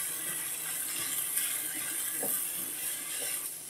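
Water poured into chicken mince in a pan, a steady close splashing flow that runs continuously for a few seconds with faint clinks, no talking.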